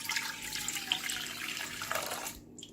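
Warm milk pours into the bowl of a stand mixer for brioche dough, a short continuous trickling splash up close that stops abruptly after about two seconds.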